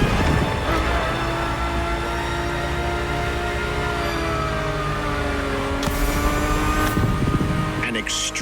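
Ferrari supercar engine in The Crew Motorfest, a loud, steady in-game drone with smooth rising and falling revs and gear changes throughout, with a shift or blip near the end.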